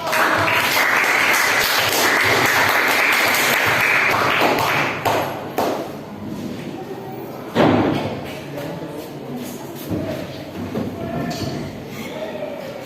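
Classroom applause after a student presentation, brisk clapping for about five seconds that thins into scattered thuds, taps and a loud knock amid room noise.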